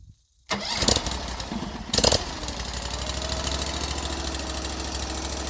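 A Cord King Repeater 29 firewood processor's engine cranks on electric start with choke in cool outdoor air, catching after two cranking bursts and settling into a steady, rumbling idle nearby.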